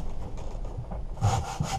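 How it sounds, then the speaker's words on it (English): A sanding block rubs paint off a lawnmower part in a series of short, close scraping strokes, with no talking. "Now, all I normally do is I just use a little bit of a sanding block."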